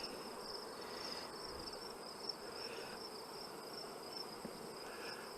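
Honeybees in a small nuc colony buzz as a steady, even drone throughout, with a high whine running through it and no voices.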